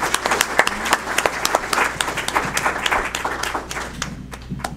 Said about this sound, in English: So let's give them a loud round of applause.